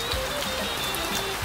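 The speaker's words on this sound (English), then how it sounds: "It's raining right now." Rain falls steadily on a Tibetan mountain plateau, a soft continuous hiss with scattered drops close by, no voices present.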